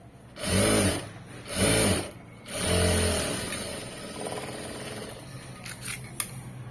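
Sewing machine stitching cloth in bursts: three short loud runs of stitching near the start, then a longer steadier run fading lower, with small clicks toward the end.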